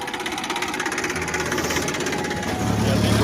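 A tractor engine runs while ploughing a field before chickpeas are sown. It makes a steady, rhythmic chugging rumble up close that grows slightly louder toward the end.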